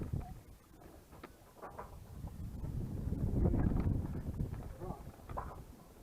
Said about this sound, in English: Did I get this wind?